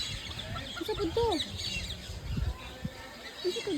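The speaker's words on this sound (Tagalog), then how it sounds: "Manok daw lang." Chickens cluck and call in short, scattered bursts at a live animal exhibit, mixed with ambient crowd noise and a voice talking.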